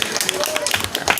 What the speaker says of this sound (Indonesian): Tepuk tangan buat Pak Ipit.